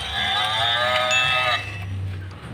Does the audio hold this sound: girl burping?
no